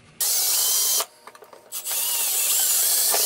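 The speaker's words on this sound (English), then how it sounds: "Now we're gonna drill a little bigger hole" A power drill whines loudly as it bores a hole in a hatchet handle for a leather strap, stops briefly with a few clicks, then runs again at full speed.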